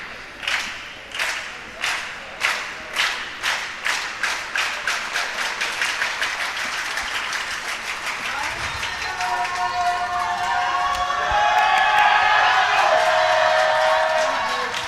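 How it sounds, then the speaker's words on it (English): Spectators at a para table tennis match at the European championships, where regular clapping speeds up and swells into loud, sustained cheering and whooping from the crowd. "Crowd at its noisiest we've heard in a while now."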